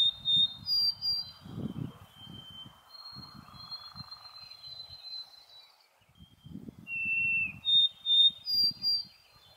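White-throated sparrow singing outdoors: thin, clear whistled notes at a distance, with low rumbling noise and handling bumps beneath.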